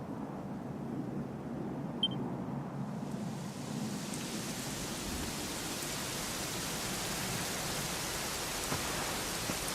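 Steady rain hisses across a broad wash of noise in a Dragon Quest XI game scene, beginning softer and swelling after a few seconds into a dense, continuous downpour with no voices.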